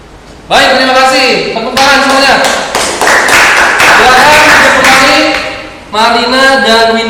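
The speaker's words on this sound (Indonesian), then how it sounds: "Tepuk tangan semuanya." A classroom of students claps for several seconds in a dense burst of applause. A teacher's voice is heard before and after it.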